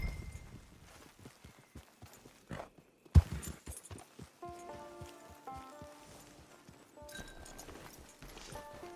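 Horse hooves clip-clop steadily in Red Dead Redemption 2 Online, with a walking rhythm, a sharp thud partway through and game music tones underneath.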